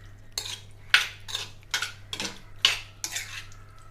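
A spoon scrapes and clinks against a bowl while prawns are stirred and coated in masala for a prawn fry, about seven sharp metallic strokes in a steady rhythm, close and clear with a low hum underneath.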